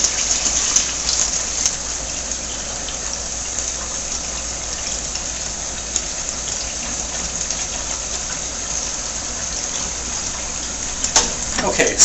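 Rinsed bulgur wheat draining through a strainer makes a steady, close watery rush and patter that runs continuously with little change, ending in a few brief clatters.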